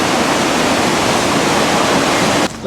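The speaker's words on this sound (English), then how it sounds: "Quite a lot of water coming down. It just flows right underneath the foundation." Floodwater rushing down a river in New Hampshire and under a building's foundation, a loud, continuous broadband roar heard close up that cuts off abruptly near the end.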